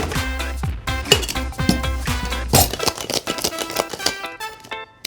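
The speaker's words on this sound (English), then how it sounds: "To make sure that our drink is diluted properly and chilled sufficiently, we're going to use block ice." Block ice clinks and rattles while a Bacardi Superior cocktail is chilled and diluted, a quick series of bright, ringing glassy knocks that thin out and fade toward the end, close and clear with no talking.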